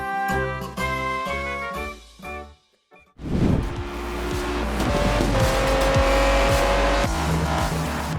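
Racing car engines and tire squeal from the video game Gear.Club Unlimited 3, with revving motors and skidding under a music track, loud and continuous.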